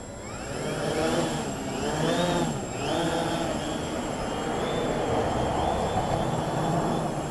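Helimax Form 500 drone motors rev up and hold a steady, loud, whining roar with rising and falling tonal sweeps, continuous and close for several seconds with no talking.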